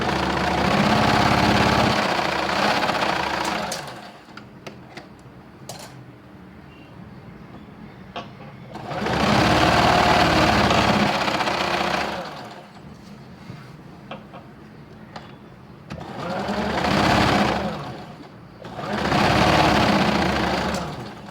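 Double stitching a kurti shoulder seam on a sewing machine: four separate bursts of loud, fast, humming motor-driven stitching, each lasting a few seconds, with quieter handling noise in the pauses between them.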